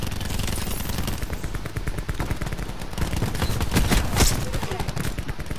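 Rapid video game gunfire rattles continuously and loudly through the whole stretch, dense overlapping shots with a few sharper cracks near the end.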